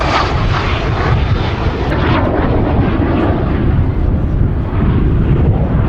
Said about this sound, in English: this is a Canadair Sabre, as I mentioned, with the Avro Canada Orenda engine